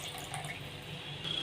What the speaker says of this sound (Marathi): इथे मी 400 या 500 ml एवढं पाणी टाकेल